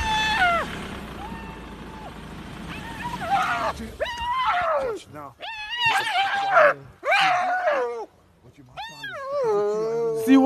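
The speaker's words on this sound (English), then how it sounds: "see wild dogs, wild dogs," High, wavering whimpers and squeaky calls from African wild dogs, several overlapping cries rising and falling, fairly close and loud.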